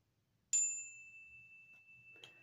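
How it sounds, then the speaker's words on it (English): A single solar plexus bell is struck once and rings with a clear, pure tone that fades slowly, followed by a soft tap near the end. "I use my bell, my solar plexus bell as well."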